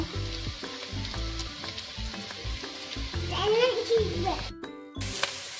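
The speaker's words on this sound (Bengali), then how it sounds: "পেঁয়াজগুলো ভালো করে ভেজে নেব।" Chopped onions fry in oil in a kadai with whole spices and bay leaf, giving a loud sizzle with rhythmic stirring scrapes and a faint voice in the background.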